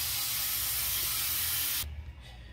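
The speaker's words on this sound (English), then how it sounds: "So let me go ahead and rinse this aloe off my face." Running water rinsing aloe off a face, a steady close hiss of spray that cuts off sharply near the end, leaving quiet drips.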